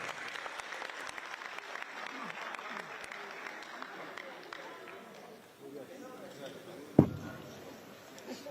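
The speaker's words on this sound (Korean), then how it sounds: "큰 박수로 맞이해 주시기 바랍니다" Applause from an audience at a Democratic Party workshop welcoming party leader Kim Min-seok to the stage, a steady, fairly faint patter of clapping that fades after several seconds and ends near a single sharp knock.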